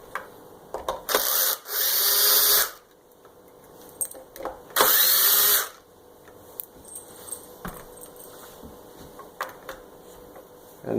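A power drill removes the two T20 screws from the bottom of a Kirby Sentria II vacuum cleaner. The device gives two loud whirring bursts, one short and one longer. Faint clicks and handling noises from the machine follow, with no talk.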